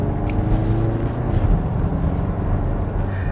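Kia Sorento with a wet dual-clutch transmission accelerating, heard from inside as a steady, loud low engine drone with road and wind rumble throughout.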